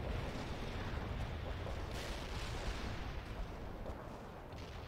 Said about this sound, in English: Commencing the barrage. Artillery barrage.